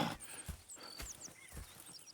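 Horses in the Red Dead Redemption 2 video game, hooves clip-clopping in a slow, uneven walking rhythm at close range, with birdsong chirping faintly in the background.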